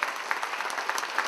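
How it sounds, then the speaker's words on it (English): Audience applause at a comedy night, a steady patter of many hands clapping at moderate distance, quite soft, with brief louder bursts. "give yourselves a big round of applause"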